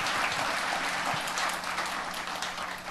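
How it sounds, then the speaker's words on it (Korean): Church congregation clapping in encouragement for a brother during an evening service, a steady rain-like patter of applause filling the room, gradually tapering. "주님 안에서 한번 격려의 박수 한번 우리 학교 형제에게 쳐주세요"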